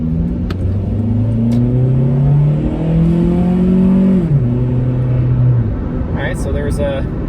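A Suzuki Aerio hatchback's engine revs up steadily in first gear toward its 6,500 RPM redline, loud and close from inside the cabin, then drops as a gear change comes, with people talking over it.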